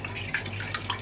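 Water trickles and splashes into chow mein sauce in a few short pours and drips over a low kitchen hum, close and fairly quiet.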